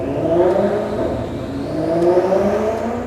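A Maserati engine rumbles and revs with a deep, throaty exhaust note, loud and close, swelling and easing in steady waves.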